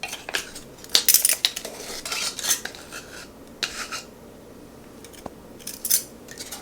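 A metal measuring spoon clinks and scrapes against a bowl as a teaspoon of baking powder goes into sifted flour for a war cake, with bursts of close tinkling and brief rests, and no voices.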